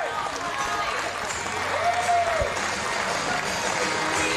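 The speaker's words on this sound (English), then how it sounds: "so everyone in the crowd is going nuts, and Mickie walks up" Crowd at an IWA Mid-South King of the Deathmatches 2006 wrestling show cheers and applauds in a continuous roar, with a commentator talking over it.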